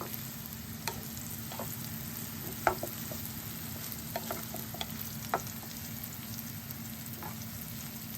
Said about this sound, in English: you have to keep mixing it until it's slightly brown, evenly, slightly brown